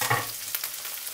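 Okra pieces frying in a hot pan for a Filipino okra omelette, giving a steady close hiss and sizzle with a brief louder crackle at the start.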